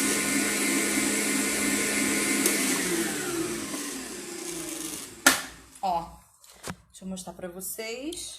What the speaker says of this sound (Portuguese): Dei uma aumentadinha na velocidade da batedeira, para ele poder juntar logo tudo.